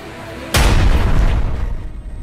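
A sudden deep bomb blast near a mosque in Malegaon, Maharashtra, booms out, then rumbles and slowly fades, loud and close with no voices.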